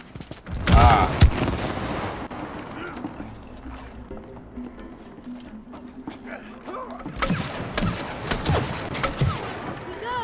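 Gunfire in the co-op game It Takes Two: bursts of sharp, rapid shots in two clusters, near and loud, separated by a quieter stretch with players talking over the action.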